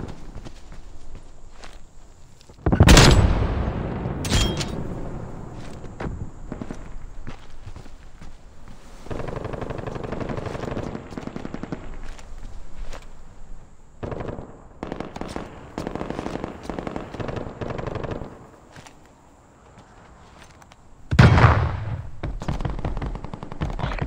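Gunfire and explosions from Call of Duty: Black Ops Cold War multiplayer, with loud blasts near the start and again late, broken rapid shots and bursts throughout, and a quieter stretch in between.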